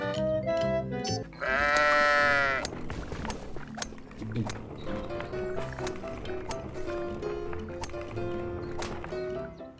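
Sheep bleating in the golf video game What the Golf, one long wavering bleat that rises above busy game music and sound effects, with people talking over it.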